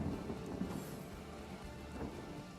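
Rain spell in Divinity: Original Sin, soft steady rainfall with a low distant thunder rumble underneath, faint and even across the moment, no voices.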